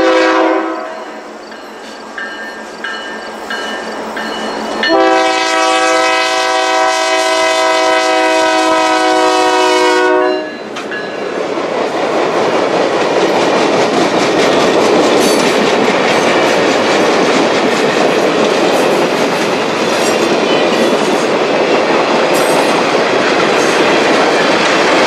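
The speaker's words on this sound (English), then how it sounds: "we see the train returning with 700 in the lead" A QJ steam excursion train led by locomotive 700 passes close by, loud and continuous, with a sustained multi-tone horn blast sounding over the rumble of the cars and clickety-clack of the wheels, then a long roaring pass-by.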